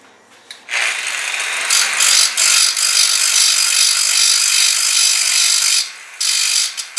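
A grinder cleans up the cut end of a metal link for an SCX10 crawler, a loud, steady high whine with grinding rasp, pausing briefly near the end before starting again, up close with no talk.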